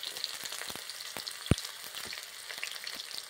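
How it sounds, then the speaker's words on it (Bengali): Chopped onion frying in mustard oil with whole cumin makes a close, crackling sizzle with sharp pops and one loud knock midway, heard alone. "দিয়ে দিচ্ছি পেঁয়াজ কুচি"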